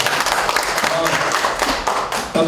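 An audience at a Korean apartment small-scale reconstruction briefing session claps in a dense, steady patter of applause inside a meeting hall, without a break for the whole moment.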